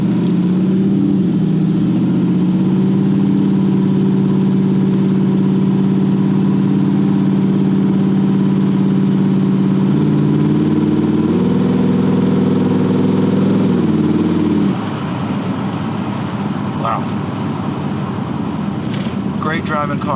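A 1982 Corvette engine hums steadily at low revs as the car pulls away, a constant droning tone that shifts pitch midway and then eases off, with road noise underneath.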